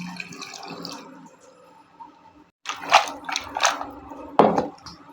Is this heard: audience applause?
no